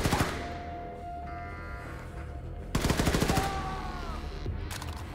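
Gunfire in the Wolfenstein 2 video game: sharp, loud bursts of shots crack out at the start and again in a dense rapid volley midway, with game music and ambience sustained underneath and a final short burst near the end.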